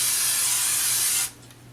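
A quick burst of cooking spray hisses into a muffin tin for about a second, loud and close, then cuts off abruptly into a quiet room.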